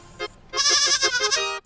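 A goat bleats close and loud: a short nasal bleat is followed by a long, wavering, quavering cry that ends abruptly.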